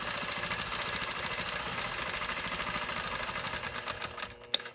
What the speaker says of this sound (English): Get that quilter rolling.